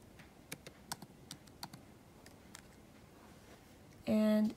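Reply typed on a computer keyboard: a handful of sparse, light key clicks spread over a few seconds, faint and fairly close, ending with a brief louder tonal burst.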